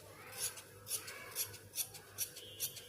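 Scissors cutting blouse cloth in a cross-cut strip, about six rhythmic crisp snips in quick succession, close and fairly quiet with no talking.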